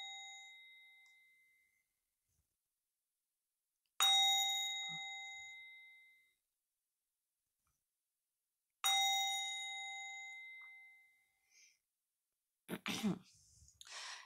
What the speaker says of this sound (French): 3 petits coups de bol tibétain.